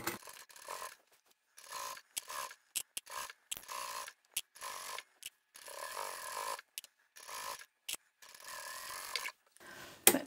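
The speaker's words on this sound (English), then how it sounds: "I'm sewing over a lot of bulk where my handle is. I'll go forward and then I'll go back and forward again." A sewing machine stitching forward, backward and forward again over a bulky handle on a large craft bag, short bursts of rapid mechanical whirring broken by pauses, close and moderately loud.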